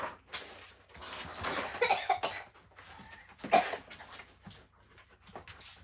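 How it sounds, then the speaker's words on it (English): A person coughs several times indoors on a cold day, the scattered, fairly faint coughs coming in uneven bursts within a quiet room. "Keep that cough that direction"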